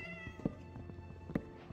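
A cat in the village-building game Life in The Village 2 gives two short meows about a second apart, moderately loud over a steady tonal music bed.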